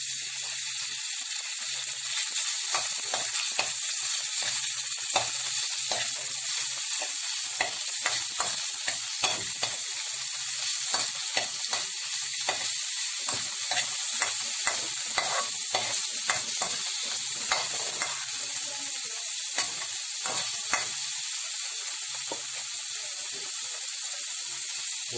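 Chicken sautéing in hot oil in a pan for pancit canton sauce, a continuous loud sizzle with frequent scraping and stirring clicks from a utensil throughout.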